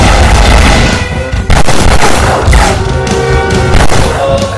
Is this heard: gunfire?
yes